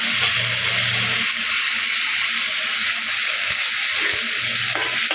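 Ground ginger, garlic and cumin paste with green chillies sizzles steadily in hot oil in a pan, a loud continuous frying hiss with occasional stirring scrapes.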